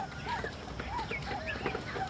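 Chickens on a poultry farm cluck and chirp in a quiet, close cluster of short, overlapping calls against low background noise.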